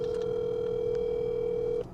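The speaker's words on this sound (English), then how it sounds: "Let me make a phone call right here." A telephone tone heard while placing a phone call, one steady unbroken tone that holds for almost two seconds and then cuts off, close and clear with no talking over it.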